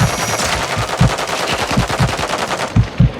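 Rapid automatic gunfire from a shooter video game rattles in fast bursts, loud and close, with heavier thumps punctuating the stream of shots, and no one speaking over it.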